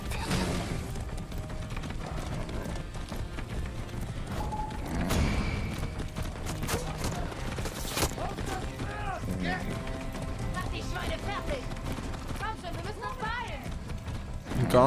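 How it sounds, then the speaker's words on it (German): A horse gallops in the video game Far Cry 6, with rhythmic hoof clatter running under a busy mix of game sounds and mechanical noises, and talk over the top. "Jetzt müssen wir hier so ein Pferd nehmen."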